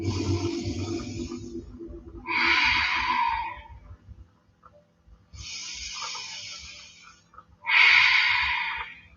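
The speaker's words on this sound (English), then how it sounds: "And 2 more deep breaths here." Slow deep breaths during a yoga session, two long inhale-exhale cycles with soft airy whooshes, each exhale louder and breathier, close and unaccompanied by talk.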